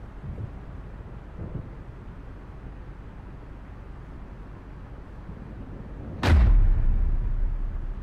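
A single deep firework boom bursts suddenly late in a scene from the video game AI: The Somnium Files, loud and booming with a lingering rumble after an otherwise quiet low background.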